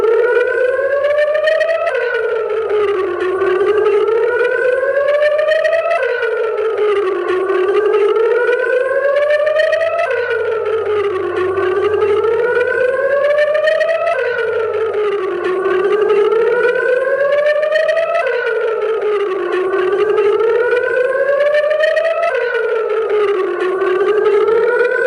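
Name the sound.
civil defense air raid siren wailing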